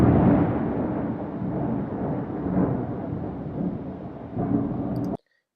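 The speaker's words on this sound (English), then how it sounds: "I've got 4 different thunder recordings." A long, deep roll of thunder rumbles continuously for several seconds, swelling in places, then cuts off abruptly into silence.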